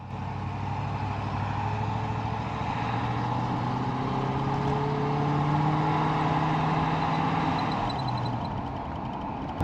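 GMC motorhome engine running steadily while driving around the block after sitting unused, a continuous low drone with rising and falling pitch as it accelerates, close and loud, with no voices.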